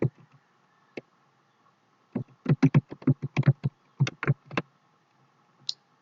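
Bursts of crisp keystrokes on a computer keyboard while filling in a web form, a lone tap first, then a quick run of clicks, another short flurry and one final faint tap against a quiet background.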